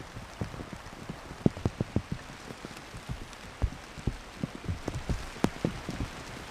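Rain falls steadily on the land of Pyeongchang, Gangwon, South Korea, with individual drops pattering irregularly on a nearby surface, fairly loud and with no voices.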